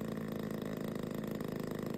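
DLE 20 gas engine running on an RC P-47 model airplane, a steady close buzzing drone with a fast regular pulse and no break or change in pitch.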